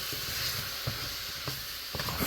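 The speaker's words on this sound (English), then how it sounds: "frying them a little bit" Pork chops frying in oil in a covered pan on lowered heat, a steady soft sizzle and hiss with occasional small pops and crackles.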